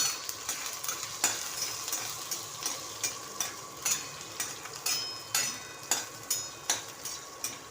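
Garlic and green chillies frying in a pan for a raw tomato recipe, a steady sizzle broken by repeated stirring scrapes and clicks in a regular rhythm, close and moderately loud with no talking.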